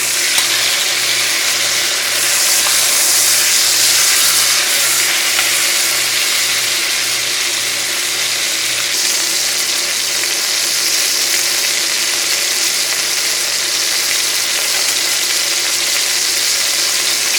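Chicken fries in hot oil in a pan, a loud, steady, unbroken sizzle close by with a faint rhythmic pulsing hum underneath in the first half.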